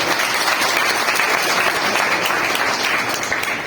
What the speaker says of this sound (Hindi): देसाई साहब के लिए आप लोग एक तालियां जरूर बजाएं